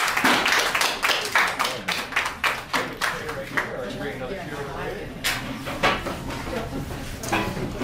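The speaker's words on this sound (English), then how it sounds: "can I get a big round of applause for Larry?" Audience at a school arts presentation giving Larry a round of applause, loud individual claps near the front that thin out midway and pick up again, with voices talking over parts of it.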